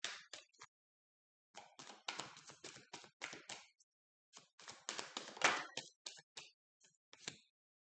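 Tarot cards from a Celtic deck are shuffled and drawn, giving quick, crisp clusters of close papery taps and flicks in irregular bursts separated by brief silences, quiet and alone.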